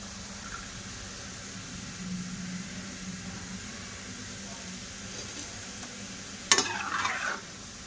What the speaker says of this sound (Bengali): দেখো সীতাভোগগুলো সব ভাজা করা হয়ে গেছে